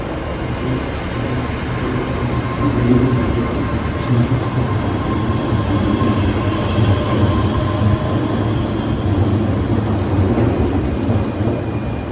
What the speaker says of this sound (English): departing now to 1604 ScotRail Express service to Edinburgh